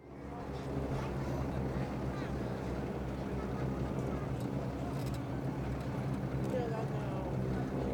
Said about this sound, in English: So coming in over the threshold, one of the most cherished historic aircraft